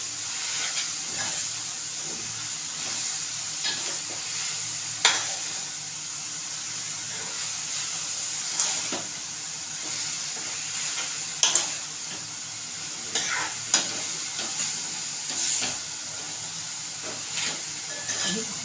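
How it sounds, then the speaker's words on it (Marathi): Amaranth greens fry in an open pan, giving a steady soft sizzle and hiss with occasional scraping stirs and light knocks throughout. "फक्त हलवायची तिला"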